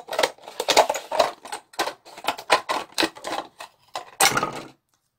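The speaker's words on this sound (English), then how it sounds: "very carefully go around with these industrial scissors" Industrial scissors snip through prop material for a chalice at close range in a quick run of crisp, separate cuts, pausing briefly before a final cluster of snips.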